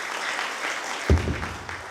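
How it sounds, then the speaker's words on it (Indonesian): Congregation applause at a Christmas church worship service fills the space as a steady wash of many hands clapping, with one louder thump partway through. "Tepuk tangan untuk Tuhan."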